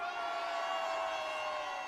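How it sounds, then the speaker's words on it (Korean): A rally crowd in Geumnam-ro roars in a sustained, loud wall of cheering and whooping, many voices blending into a dense, unbroken shout that holds steady throughout. "전방을 향해 함성!"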